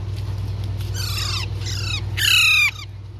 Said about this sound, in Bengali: আমাদের কাছে রয়েছে সুন্দর চন্দনা পাখি।